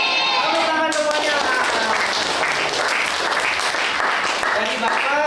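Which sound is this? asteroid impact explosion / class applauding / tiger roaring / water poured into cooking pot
class applauding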